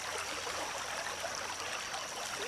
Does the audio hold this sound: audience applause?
no